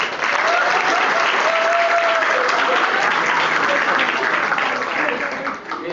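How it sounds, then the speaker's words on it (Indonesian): Audience applause on a campus hypnosis session, continuous loud clapping from a crowd, with some voices and a faint tonal sound mixed in. "Bagus sekali, tepuk tangan semua."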